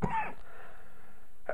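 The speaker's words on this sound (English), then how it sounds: "I'm already coughing." A man clears his throat and gives a short cough at the start, then near silence, with another brief throat sound at the end. Close and indoors.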